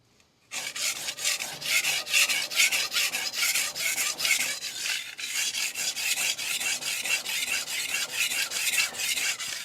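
A big, hard steel knife rasps back and forth on a DMD resin-bonded diamond sharpening plate, steady close-up strokes in an even rhythm running nearly ten seconds with no talk.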